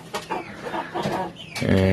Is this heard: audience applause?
no